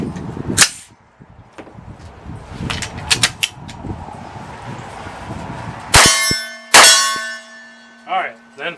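A CMMG MK17 rifle fires two last rounds in quick succession. Each is a loud, sharp report with a metallic ringing tail, and quieter clinks and handling noises come before them.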